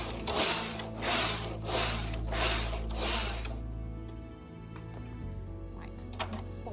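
A knitting machine carriage is pushed across the needle bed to knit plain rows, making four loud rhythmic whirring, clattering sweeps close by, followed by quieter clicks and handling sounds.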